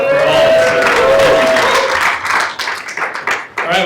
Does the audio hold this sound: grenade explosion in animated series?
no